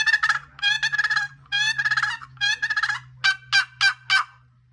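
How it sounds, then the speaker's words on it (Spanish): Turkeys squabbling with loud, harsh gobbling calls in rapid bursts, then four short separate cries, close by with a low hum underneath. "Este sonido es cuando se andan peleando los guajolotes"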